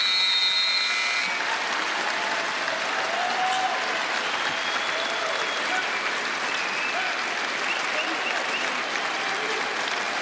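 Basketball arena crowd applauding steadily in tribute to Kobe Bryant at a 2019-20 NBA game, a dense, sustained wash of clapping and cheering heard at a distance throughout.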